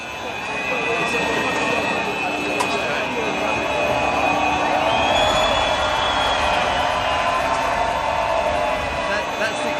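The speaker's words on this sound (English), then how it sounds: "Crowd is really cheering for you there." A large crowd cheers at the Spanish Grand Prix, a loud, steady roar filling the air with no break, while voices talk over it.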